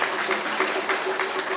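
Brief burst of group clapping at a Good Friday event, many hands striking in a fairly even rhythm, close and steady.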